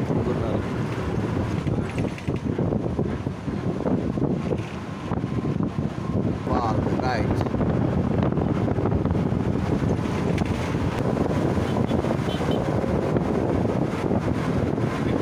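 Cold wind on the road to Kodaikanal buffets the microphone loudly and continuously, making a rough, gusty roar throughout with a slight lull midway.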